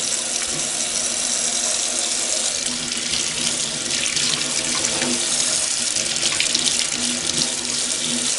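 Licorice fern roots rinsed under a running tap, a steady close rush of water splashing into a sink without pause.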